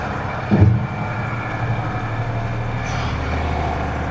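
A 29,000 lb Unimog 6x6 truck rounds a tight corner offroad, its steady low engine drone rising with a brief louder thump early on, then holding a rough, even rumble close by.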